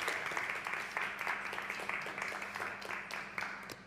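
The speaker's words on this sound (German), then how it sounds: "nochmal einen großen Applaus, bitte" An audience at an award ceremony keeps up a moderate, even round of applause, heard from a distance in a hall, with no voice over it.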